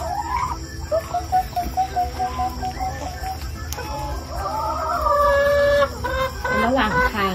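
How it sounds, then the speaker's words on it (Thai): Chickens cluck and cackle nearby in uneven bursts, with a soft insect chirring in the background. "มาดูไก่ครั้งแรกนะคะ"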